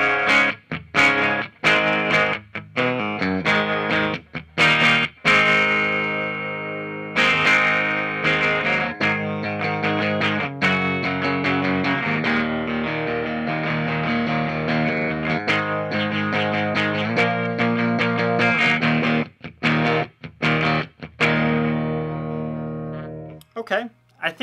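An electric guitar on its bridge pickup plays chords and ringing notes with a bright, effected tone, alternating short staccato strums and longer sustained passages with brief pauses.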